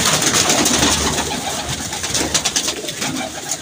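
Pigeons, including a Jaunsara-type bird, heard continuously across the clip as a dense close-range flock with soft coos and fluttery calls amid steady outdoor background noise.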